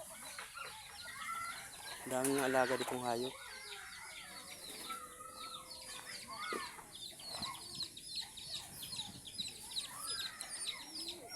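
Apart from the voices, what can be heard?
chickens clucking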